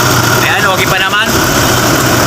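A Toyota Hilux 4x2 idles steadily at close range during routine servicing, a loud even engine hum with a light vibrating rumble underneath, while someone talks over it.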